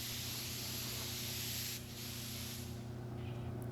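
An LVLP spray gun running at 30 psi from a small air compressor through a diaphragm regulator lays down a second coat of paint. It gives a continuous, even hiss of atomizing air with a slight dip midway.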